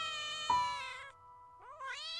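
A small kitten meows loudly and plaintively, a long drawn-out cry followed by a short pause and a second rising meow, heard close and alone.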